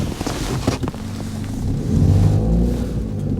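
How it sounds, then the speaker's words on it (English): A car rumbles past close behind, with a low engine drone that swells and holds over wind buffeting on the microphone. "There's a car behind me."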